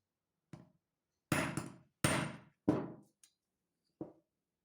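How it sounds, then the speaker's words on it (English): A hole is punched through a copper envelope pendant without a drill, heard as four or five sharp, close metallic hammer strikes spaced irregularly in quiet, each with a short ringing decay. "Let me show you how to punch that hole quickly with it."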